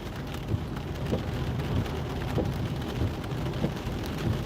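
Heavy rain, with hail, drums steadily on a car during a drive through Wigan toward Ashton-under-Lyne in the UK. The wash stays dense and constant, with scattered louder patters and no talk.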